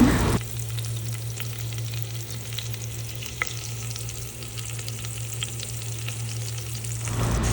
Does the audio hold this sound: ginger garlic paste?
yes